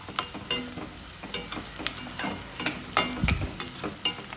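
Onion, green chili and turmeric fry in a pan for beetroot palya, with bursts of sizzling and repeated stirring scrapes in an irregular rhythm, close and moderately loud, with no talking.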